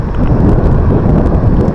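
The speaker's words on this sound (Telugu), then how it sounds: "గాలి కూడా మనకు ఆపోజిట్లోనే ఉంది" A strong headwind roars across the microphone throughout a long-distance cycle trip through forested country, a steady, loud, buffeting rumble with no speech.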